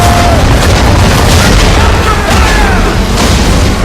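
Ship cannons firing in a naval battle in Assassin's Creed III, a dense, loud barrage of booming blasts that rolls on continuously, with shouting voices under the roar.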